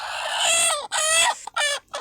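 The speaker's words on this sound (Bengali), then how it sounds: "এই ডিমটা একটু আগে পারছে আর খুঁতখুত করতে আছে" A hen that has just laid an egg, clucking loudly and close in a series of drawn-out, harmonic calls separated by short pauses.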